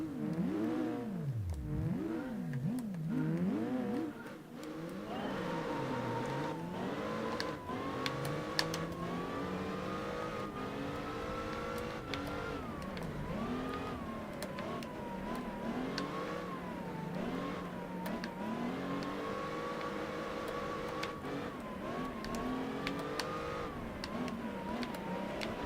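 Race car engines roaring on the Whistler Ice Race in Gran Turismo 4, racing a 165 Celica; a steady, loud engine drone with repeated revving sweeps up and down through gear changes, continuous throughout with no talking.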